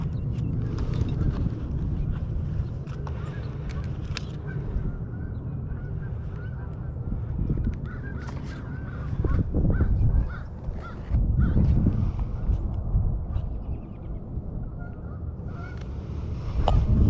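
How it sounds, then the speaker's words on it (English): Geese honk nearby over a steady outdoor rumble, with repeated loud calls sounding close and continuing through the stretch, at times overlapping one another. "geese were so close."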